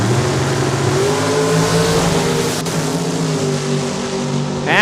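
Drag race cars launch off the line in the OK Tire Super Pro Final at Saskatchewan International Raceway in Saskatoon, a loud, sustained engine roar with a strong, rising harmonic drone lasting several seconds.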